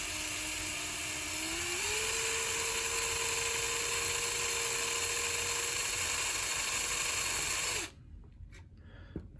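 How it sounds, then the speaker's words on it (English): A drill boring a hole in a radio mounting board for a Nissan PAO Bluetooth modification: a steady high whine rises in pitch after the start, holds close and loud, then stops abruptly near the end. "just so that I get this hole perfectly centered, is that I start to drill it"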